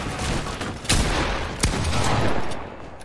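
Gunfire in Fortnite Battle Royale, loud sharp shots over a dense noisy backdrop, with two standout blasts about a second apart.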